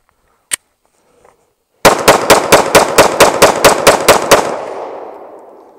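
A Smith & Wesson M&P9 Compact 9mm handgun fires on a shooting range using a magazine without an extended base plate. After one isolated crack, a rapid string of about a dozen loud, evenly spaced gunshots rings out and decays into echo.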